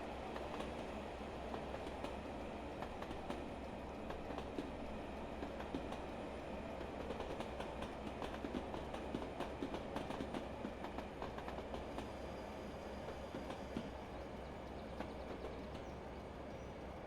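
A train runs steadily in Train Simulator 2020, with a continuous low rumble and rhythmic clickety-clack of wheels over rail joints, moderately quiet and unbroken.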